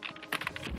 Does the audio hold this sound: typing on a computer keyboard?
yes